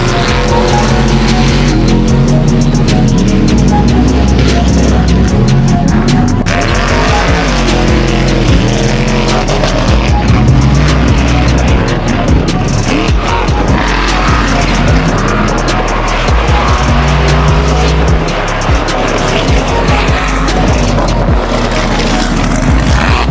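A monster truck roars through a freestyle run at a Newfoundland event, its loud engine revving and surging continuously with tire squeals and skidding bursts, close and sustained throughout.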